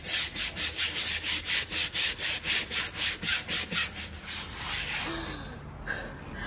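Rhythmic back-and-forth scrubbing of a thermal van window shade to remove blue Ajax cleaner residue, about a dozen even strokes close up, then slowing and fading into softer rubbing near the end.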